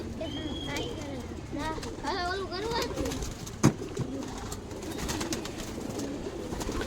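Pigeons cooing nearby in soft, throaty, wavering calls, a few repeated coos early on, followed by a sharp knock and quieter background noise.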